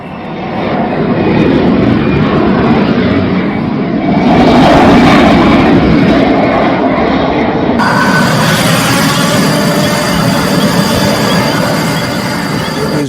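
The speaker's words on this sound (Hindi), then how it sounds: "देखिए कैसे अमेरिकी फाइटर जेट मिसाइल और रॉकेट दागने के बाद वापस लौट गए" US fighter jets flying after a strike operation in Venezuela, a loud, steady roar of jet engines that swells in the middle and continues throughout, with no talk.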